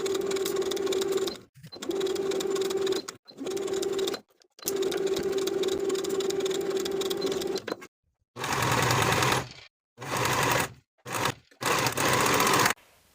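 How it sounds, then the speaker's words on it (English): Sewing machine stitching a dress skirt to its bodice in a straight seam, running in several steady bursts of rapid mechanical whirring separated by short pauses, close and clear with no talking. "Then we can sew the skirt to the bodice straight across from center back to center back with a 3/8 inch seam allowance"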